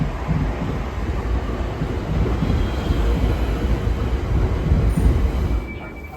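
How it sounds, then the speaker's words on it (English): A GTR train pulls into Norwood Junction station with a deep, steady rumble of wheels and carriages that swells slightly as it nears, with a faint high squeal near the end. "So next stop will be train pulling in."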